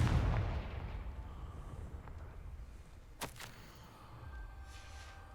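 A Confringo fire spell detonates in the Hogwarts Legacy video game, one sharp blast with a brief crackling burst, set against a steady low rumble of game ambience.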